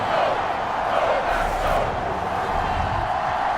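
Steady roar of a stadium crowd in Madden NFL 23 during a Steelers vs Packers game after an opening-drive field goal, a dense, continuous wash of cheering with no talk over it.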